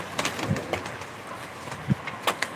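A couple of soft, low coos from racing pigeons sound close by, spaced apart, over faint background noise with light clicks and rustles.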